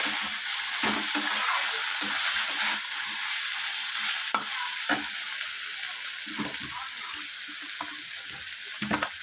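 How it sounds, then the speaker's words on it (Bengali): Ginger garlic paste with a splash of water fried and stirred in a pan, a loud close hissing sizzle that eases slightly over time, dotted with repeated scraping strokes of a spatula. "আদা রসুনটাকে দিয়ে আবারও আমি এইভাবে কষিয়ে নিচ্ছি"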